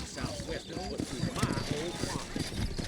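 Steady horse hooves clip-clop beneath a voice talking in the video game Red Dead Redemption, with a brief whinny-like sound partway through over a busy background.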